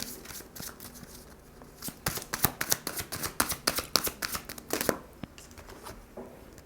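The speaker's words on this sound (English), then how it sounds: "Let's pull you some of the psychic tarot cards." Psychic tarot cards are shuffled by hand, a rapid series of crisp riffling slaps and flicks that builds into a busy burst, then settles into quieter handling. The sound is close and comes without any talk.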